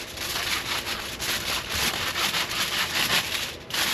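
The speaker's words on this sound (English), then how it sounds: "I'm able to paint some of this, the most that I can, tucking this aluminum foil in here" Aluminum foil is pressed and tucked by hand into a BMW E90 335i engine bay, giving close, continuous crinkling and rubbing scrapes with irregular pulses, loud and alone.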